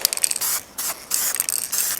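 Spray gun laying lacquer in a fan pattern in a garden, hissing bursts of spray with short gaps between passes, close and steady.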